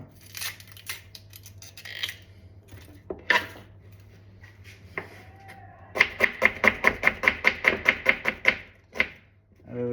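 A knife finely chops vegetables such as green chillies and tomato on a board. Scattered cuts come first, then a fast, even run of about a dozen sharp, close knocks, with no speech.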